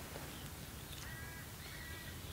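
Crows cawing outdoors, two or three faint harsh calls at a distance over steady background noise.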